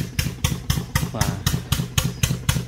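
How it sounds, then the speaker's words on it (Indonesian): Diesel engine pumping irrigation water on a farm, thudding close and loud in an even, rapid chug of about four beats per second, with a brief exclamation from a man partway through. "Kalau kita mendengar suara ini adalah suara mesin diesel ya,"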